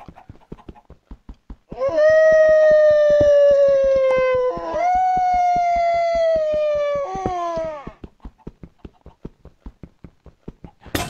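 Puppies in a video game let out a sustained, tonal howl lasting several seconds, rising in two long swells, over a steady clip-clop of footsteps or hooves that continues before and after.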